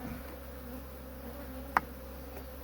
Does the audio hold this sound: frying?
no